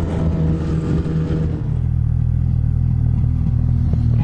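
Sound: snowmobile engine misfiring

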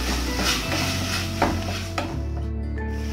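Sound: frying onions and tomatoes for pav bhaji

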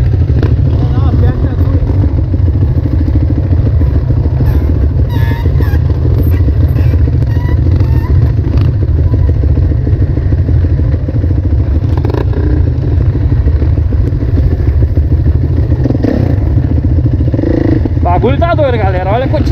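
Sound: many motorcycles with engines running

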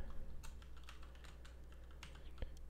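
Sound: typing on a Mac computer keyboard

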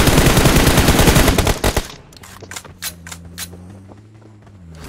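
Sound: gunfire in the video game BGMI

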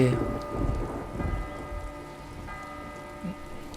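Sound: rain falling in the video game Last Day of June

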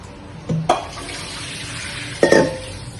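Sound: washing peeled garlic in water

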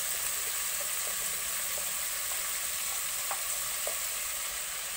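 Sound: onion and potato frying in pork curry pan

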